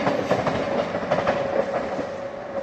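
A train rolls through a railway level crossing in a rural Indian setting, a steady close rumble with rhythmic clickety-clack of wheels on rail joints, loud and continuous with no voices.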